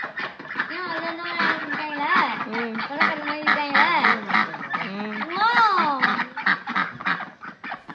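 Loud, rapid duck quacking in a village near Chennai, several birds calling over one another in harsh overlapping bursts, close by and continuous.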